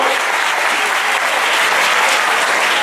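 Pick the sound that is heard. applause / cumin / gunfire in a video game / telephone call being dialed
applause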